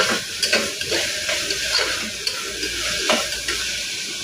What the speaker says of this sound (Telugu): అల్లం వెల్లుల్లి పేస్ట్ వేసుకోవాలి. పసుపు ఇవన్నీ బాగా కలుపుకోవాలి.